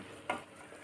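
Rice grains being stirred into a hot pan of vegetables for khichdi give one short, close scraping swish in a quiet kitchen.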